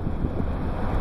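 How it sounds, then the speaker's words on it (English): Steady, roaring wind during a tornado chase in Colorado, buffeting the microphone with constant low rumble and gusts for the whole moment, loud and close with no voices. "The wind."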